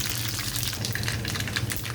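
Cumin, mustard seeds and garlic sizzle steadily in hot oil in a pan while gongura chutney is being made, a close, continuous crackling fry with small pops and no talking.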